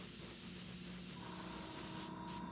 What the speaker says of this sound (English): Just spraying a little air to keep this dry.